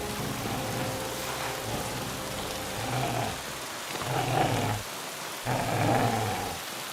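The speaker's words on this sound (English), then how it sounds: "Crazy doggy." A dog growls and snarls in bursts over steady rain in the Kingdom Come: Deliverance II video game, the low rumbling growls rising and falling near and loud against the continuous downpour.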